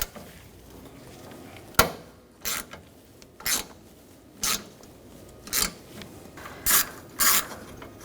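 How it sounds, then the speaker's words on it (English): A ratchet with a 10mm socket backs a nut off on a 2014-2020 Nissan Rogue during radiator replacement, giving eight short, close clicking bursts at uneven intervals over a quiet background. "Using a 10mm socket, we're going to take this nut off."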